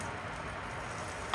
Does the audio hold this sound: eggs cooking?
yes